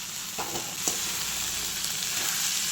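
Mixed vegetables for a South Indian poriyal, about eleven kinds, stir-fry in a pan with a steady, close hiss of frying and a few soft stirring knocks, with no talking.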